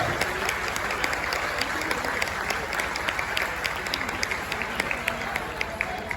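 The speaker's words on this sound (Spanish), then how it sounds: "Así que un aplauso a la gente que está trabajando esta noche." Outdoor crowd applause at the opening proclamation of the Folixa la Sidre cider festival in Ribadesella, steady dense clapping with a few cheers and background voices throughout.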